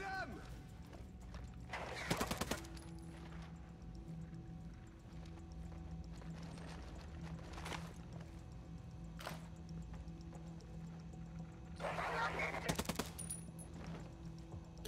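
Modded gunfire in Ghost Recon Breakpoint, with two bursts of rapid shots near the start and end plus a few isolated single shots, over a steady game background hum.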